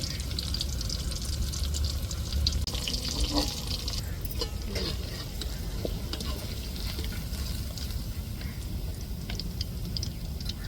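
Fish cutlets fry in oil in a home kitchen, a steady quiet sizzle with scattered crackles and light clatter throughout, no voices heard.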